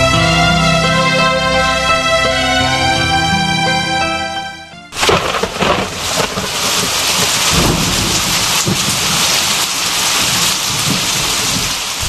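A radio drama scene that opens on a sustained musical tone, then cuts abruptly to a loud, steady downpour with rolling thunder rumbling through it, rain filling the rest with no one speaking.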